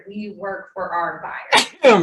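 A sneeze bursts out twice in quick succession near the end, loud and close, right after a person talks in an office team meeting.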